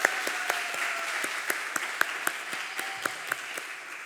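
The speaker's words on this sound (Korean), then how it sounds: "우리 하나님께 영광의 박수 올려드리겠습니다." A church congregation claps together in praise, a fairly quiet, steady round of applause with a few sharper individual claps standing out across a few seconds.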